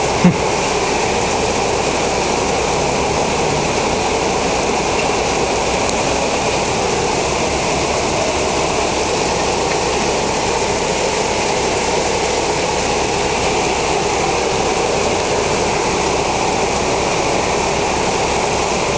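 A heavy rain downpour over Bologna roars as a dense, constant wash of noise, loud and unbroken for the whole stretch, with no voices.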